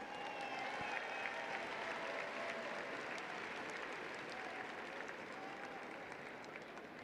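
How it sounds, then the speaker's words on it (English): Audience at a 2023 high school commencement ceremony applauding, a dense, sustained wash of clapping from a large crowd, steady then slowly easing, with no talk over it. "So parents, families, please give yourselves a round of applause."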